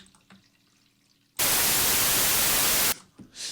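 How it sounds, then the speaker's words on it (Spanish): White noise from a signal generator on an auxiliary track bursts in abruptly, a loud flat full-spectrum hiss held for about a second and a half before cutting off, with quiet room sound around it. "tengo en primer lugar un generador de señal con ruido blanco"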